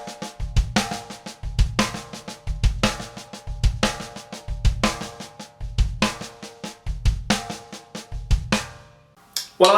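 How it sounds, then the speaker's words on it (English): Drum kit playing a paradiddle-diddle with the last diddle moved to the bass drum foot, quick repeating groups of snare strokes each closed by a deep kick thump, steady rhythm, close and alone. "Replacing the last diddle with the foot sounds like this."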